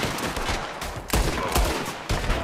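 Revolver gunfire in Red Dead Redemption 2, several sharp, loud shots fired in quick succession with a dense, continuous battle backdrop between them.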